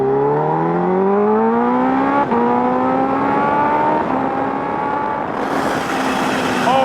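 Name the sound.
2024 Kawasaki Ninja H2 motorcycle accelerating, blow-off valve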